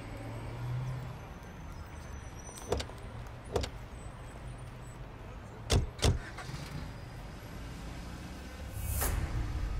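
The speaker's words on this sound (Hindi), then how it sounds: "सुमन, गाड़ी रोको।" Car interior while driving, a low steady road and engine rumble with several sharp clicks and thumps scattered through, rising slightly at the end.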